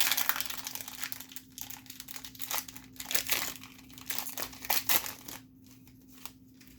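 Close crinkling and tearing of a Magic: The Gathering booster pack's foil wrapper, a run of irregular crackles and rips with no talking.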